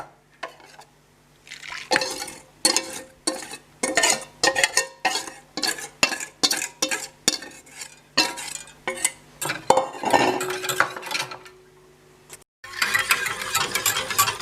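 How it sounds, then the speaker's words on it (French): A spoon or whisk stirring custard cream in a saucepan over low heat, repeated close scraping and clinking strokes in an uneven rhythm, with a short pause near the end before the stirring resumes. "sur feu doux, je chauffe sans cesser de remuer jusqu'à ce que ma crème épaississe"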